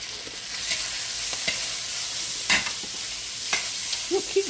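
Food frying in oil with a homemade dry seasoning mix gives a steady close sizzle, with spoon scrapes and knocks from stirring at irregular intervals.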